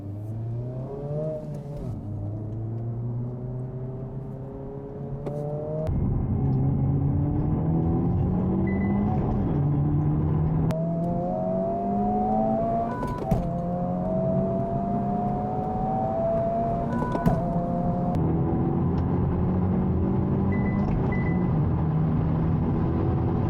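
A 2023 Honda Civic Type R, a Nissan Z and a Hyundai Elantra N accelerate hard side by side in a drag race, engines climbing through repeated gear changes in a loud, sustained roar with rising and falling pitch sweeps, no talking.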